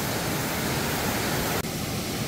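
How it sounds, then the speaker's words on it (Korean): Water from a waterfall merging with a side stream and rushing down a rocky valley creek at Toegol Valley in Paju, a steady broadband roar close by, with a brief dip near the end. "폭포에서 내려오는 물하고 합쇄를 해서 이렇게 이제 쭉 내려가요"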